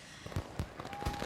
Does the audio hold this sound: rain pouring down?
no